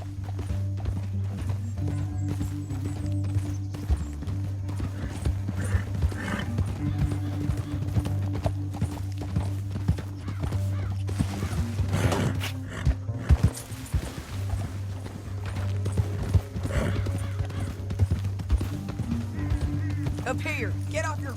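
Horse hooves in Red Dead Redemption 2 as riders move through a canyon: a steady clip-clop of several horses under a low droning score, with characters talking over it throughout.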